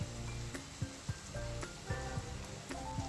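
Vegetables for veg pulao frying in a pan, a steady close sizzle broken by a few sharp stirring clatters, with no talk.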